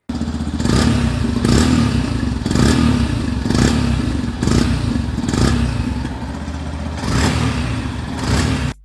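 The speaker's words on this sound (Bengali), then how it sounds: "এখন আপনাদের বাইকের সাউন্ডটা একটু শোনানোর চেষ্টা করি।" A Yamaha FZS V4 Hybrid motorcycle engine runs loud and close, blipped in repeated rhythmic revs roughly every second, with no talk over it.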